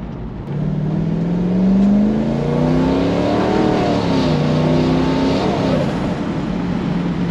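Mercedes S124 with a turbocharged V8 revving on the street, a steady loud engine drone rising and falling in pitch as it climbs and settles, heard close with no talking.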